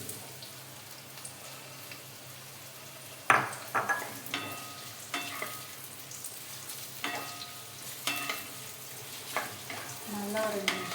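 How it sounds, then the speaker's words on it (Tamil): Onions sauté in hot oil in a kadai with a soft, steady sizzle, punctuated by scraping and clinking stirring strokes from about three seconds on; no one speaks. "நல்லா ஒரு 2 நிமிஷம் வதக்குங்க."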